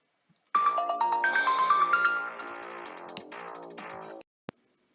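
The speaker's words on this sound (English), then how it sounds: "but I got a phone call" A phone ringtone for an incoming call plays a bright melodic chime that runs on for several seconds, then shifts to a rapid repeating pattern of tones before cutting off, clear and alone in otherwise quiet surroundings.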